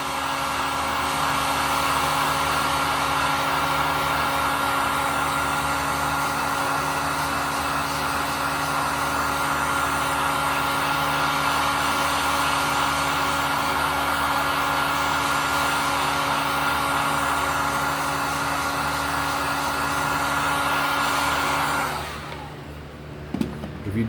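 Heat gun blowing steadily while heating a leather strop loaded with stropping compound, a constant loud whooshing hum with a fan whine, running alone for about twenty seconds before cutting off, followed by a few small handling clicks.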